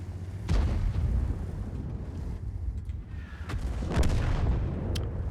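Tank guns firing in World of Tanks, deep booming shots that ring out over a constant rumbling engine drone, one heavy blast near the start and another later.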